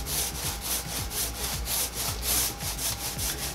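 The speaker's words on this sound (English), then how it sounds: "I'm going to try to squeegee it off." A squeegee dragged across paint on a pre-stained wooden door sign, making repeated rough scraping strokes in a steady back-and-forth rhythm, close and loud, with no talking.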